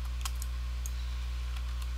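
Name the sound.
typing keyboard shortcuts on computer keyboard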